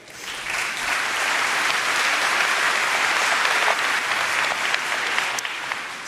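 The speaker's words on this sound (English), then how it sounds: "give Nigel a round of applause" A keynote audience at the NI Connect 2026 tech conference applauds, swelling quickly into dense, even clapping that holds for several seconds before easing off slightly at the end.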